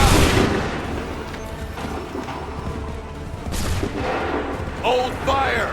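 A musket volley in the Assassin's Creed 3 video game opens with a loud booming crack, followed by rumbling battle noise, further distant shots and brief shouting voices.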